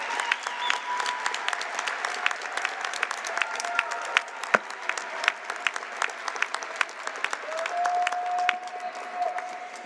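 A large commencement crowd of families and supporters claps steadily for the graduates, with crisp individual claps standing out over a continuous wash and a faint whistle or cheer rising near the end.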